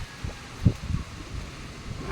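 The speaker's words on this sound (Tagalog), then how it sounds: "Hangin." Gusty wind blowing outdoors on a rainy morning in a hillside eggplant garden, a low rumbling wash with a few stronger buffets against the microphone, no one speaking.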